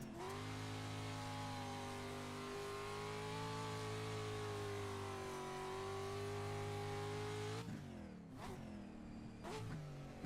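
Pro Light truck from the iRacing sim revving steadily at high pitch for about eight seconds, then dropping abruptly into a few sharp downshift blips; loud, close engine with no talk.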